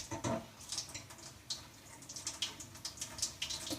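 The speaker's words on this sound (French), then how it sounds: "alors je vais faire couler de l'eau" Water running from a kitchen sink tap, a faint continuous splashing trickle with small drips and bubbling, heard alone at low level.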